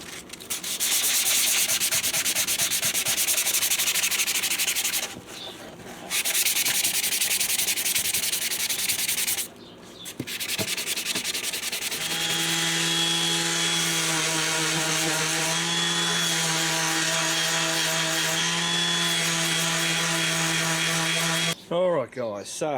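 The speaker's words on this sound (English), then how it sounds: "Ended up getting that the sander out just to make it quicker because it was taking a bit to bloody rub it out." A motorcycle part is rubbed back by hand with foam sanding pads, a steady scratchy scrubbing, before a power sander takes over with a loud, even motor whine and grinding hiss that runs close and continuous.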